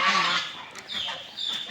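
A few nasal honking quacks from ducks ring out in short bursts, nearby and fairly loud, with pauses between them.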